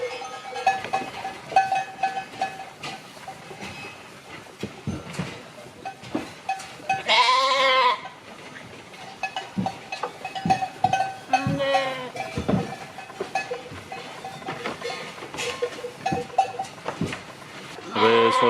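A farm flock of sheep calls out in scattered bleats, one loud near bleat standing out among fainter ones, with clattering knocks and bell-like clinks between them and no talk.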